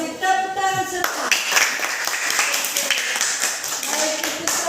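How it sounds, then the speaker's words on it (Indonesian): A classroom of students claps hands in a brisk, steady patter of many overlapping claps, close and fairly loud, right after a teacher's voice is heard briefly. "Tepuk tangan semua."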